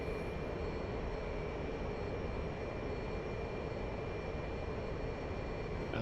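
In the DCS flight simulator game, an aircraft engine drones in a continuous, even roar with a faint steady whine above it, unbroken for the whole stretch.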